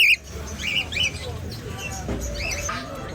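Parrots at a Karachi bird market give sharp, repeated squawks and chirps over a babble of voices and market bustle.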